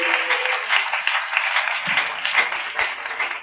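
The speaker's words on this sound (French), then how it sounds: "Acclame très fort Jésus." A church congregation claps and applauds loudly in praise of Jesus, a dense sustained wash of hand claps with a few slightly louder bursts and no clear voices above it.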